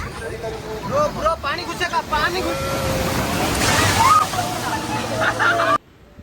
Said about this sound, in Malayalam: ഇങ്ങനെ നിൽക്കാൻ നേരത്താണ് അപ്രതീക്ഷിതമായിട്ട് ഒരു തിരമാല വരുന്നത്